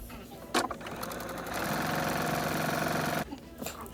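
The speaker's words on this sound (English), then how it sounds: "we'll go ahead and just start sewing just down the side there" A sewing machine stitches a quarter-inch seam down the side of an apron, giving a close, steady mechanical whir of rapid needle strokes that runs for a few seconds between brief handling sounds.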